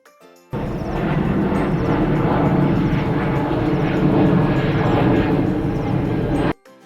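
A steady, loud roar of an airplane engine fills the clip, starting abruptly and cutting off near the end, with no voices.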